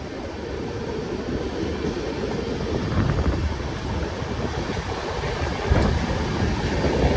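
A passenger train runs along the track, a steady rumbling roar with rattling wheels and wind rush, close and continuous, swelling slightly in the middle with occasional clanks.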